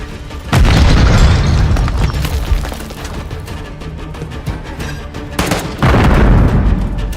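A grenade goes off in Call of Duty MW3 on PS5, with two loud booming blasts, one near the start and one near the end, each followed by a rumbling tail amid gameplay noise.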